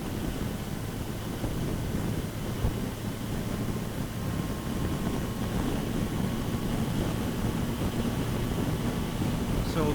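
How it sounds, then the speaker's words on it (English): Steady wind rushing past a boat out on open water, a continuous broadband roar with low rumble and buffeting that stays constant throughout, with no clear voices. "Wind's a feature of the area."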